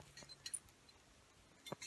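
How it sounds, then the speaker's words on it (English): A small bell on a dog jingles in the woods, with a few faint, scattered tinkles spread across a quiet outdoor background. "I have a bell on him."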